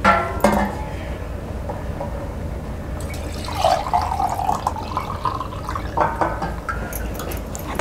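Water is poured from a vessel into a bowl of flour and spice mix for puran poli dough, a brief trickle and splash with a few soft clinks.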